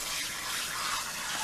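Running water rinses an aquarium filter that holds charcoal, a steady, close gush that continues without a break for a brief moment.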